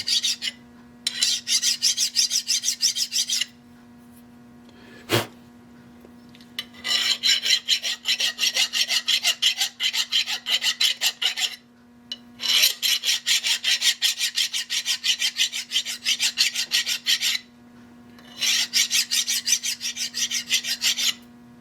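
Metal file rasping burrs off the corners of a machined part, loud close strokes in long back-and-forth bursts separated by short pauses, one sharp knock partway through, no talking.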